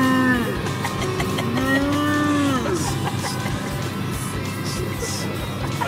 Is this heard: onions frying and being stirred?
no